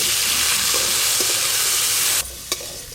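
Mustard oil sizzles hard with panch phoron spices, dried red chillies, bay leaves and boiled jackfruit seeds, a steady dense frying hiss with faint stirring knocks, dropping away near the end to a quieter crackle.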